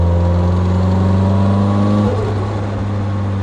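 A 1990 Nissan 240SX with an SR20DET engine and Garrett GT2871 turbo produces a loud, close engine drone that drops off sharply partway through as the throttle closes.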